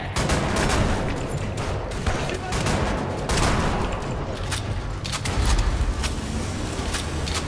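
Shotgun blasts in Wolfenstein: The New Order, repeated loud booming shots in a dense, chaotic barrage of game gunfire and action noise, close and continuous throughout.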